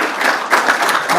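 Audience at a talk on storytelling gives a short burst of applause, a brief, dense crackle of many hands clapping.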